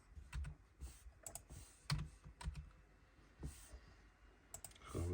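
Quiet computer keyboard typing up close, with irregular bursts of key clicks and short pauses between them.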